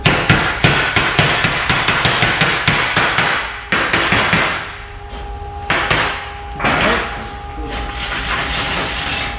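Rapid metallic hammer blows chip slag off a fresh weld in a school welding workshop, a fast steady series of sharp raps that pauses and resumes, with faint talk and a light scraping between bursts.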